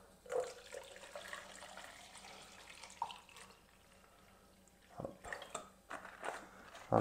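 Water is added to a drink of green tea powder, a brief splash and trickle with faint bursts of liquid sound near the start and end, heard fairly close in a quiet room.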